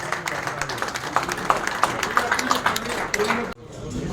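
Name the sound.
audience applause welcoming guests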